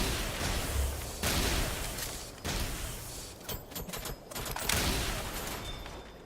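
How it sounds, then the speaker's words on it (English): Torpedoes launching in the mech combat game Armored Core, with a series of loud, thumping explosive bursts and rumbling blasts piling up over several seconds, no voices. "trying to be cheeky, launching torpedoes at me"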